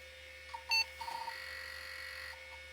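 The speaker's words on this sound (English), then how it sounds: "So that's a single beep now" A Pentium 133 PC powers on and gives a single short POST beep, which sounds clearly over a steady electrical hum and a faint high whine.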